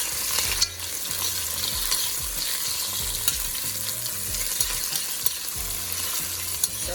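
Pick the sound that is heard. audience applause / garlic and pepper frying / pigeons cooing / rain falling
garlic and pepper frying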